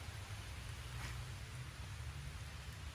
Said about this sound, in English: It's peaceful just sitting under this tree, not getting wet, watching it rain.